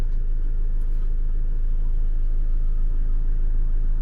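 A car engine rumbles steadily at low pitch, close by, as the vehicle edges forward through a narrow gap, with no voices over the continuous drone.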